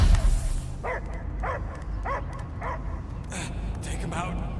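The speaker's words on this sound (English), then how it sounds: "I hear only barking" A dog in the Guardians of the Galaxy video game barks about seven times in a steady series of sharp woofs over a low rumbling game ambience.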